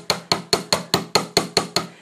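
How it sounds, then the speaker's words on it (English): A metal hammer strikes heavy gauge wire on a hard block to flatten and planish it for a bracelet, making nine evenly spaced, sharp, ringing blows close up with no talk. "So hammer that flat, and then remember I'm going to planish it, so I'm going to be coming down and scooping across it."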